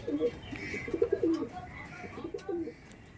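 Teddy pigeons coo close by in soft, repeated throaty phrases, a few calls spread across the moment against quiet background noise.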